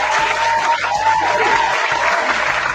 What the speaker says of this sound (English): Thank you very much, fake studio audience, for that spontaneous round of applause